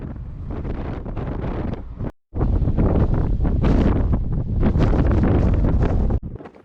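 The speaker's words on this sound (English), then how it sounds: "Wind up here is incredibly strong! Like dangerously strong!" Strong wind buffets the microphone at Castle Argos in Greece, a loud, roaring, continuous gusting that cuts out briefly once and then resumes just as forcefully, fading slightly at the end; no voices.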